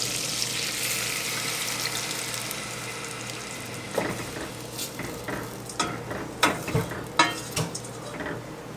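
Butter melts in a pot with a low hiss. After milk goes in, a spoon stirs and scrapes against the pot in a run of distinct strokes for an old-fashioned boiled cookie mixture.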